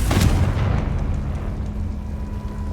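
A Confringo spell explosion in the video game Hogwarts Legacy lands as a single deep, loud boom at the start, with a rumbling tail that fades slowly over the next couple of seconds.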